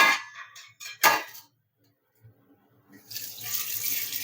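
Water trickles weakly from a kitchen tap with little flow, coming in short splashy bursts and then a thin steady hiss, close by with no talking.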